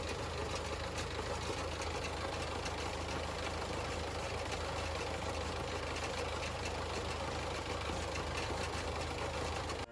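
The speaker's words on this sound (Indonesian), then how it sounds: "Setelah bleeding lanjutan selesai, mesin harus hidup stabil. Idle yang normal menunjukkan seluruh jalur bahan bakar telah terisi solar tanpa udara." A diesel forklift engine idles steadily after its fuel system has been bled. It gives a continuous, even, mid-to-low rumble with a slight knock for the whole stretch, and no one talks.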